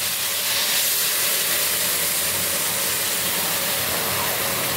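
Spice paste hitting softened bottle gourd in a hot pan, a loud steady sizzle and hiss from start to finish.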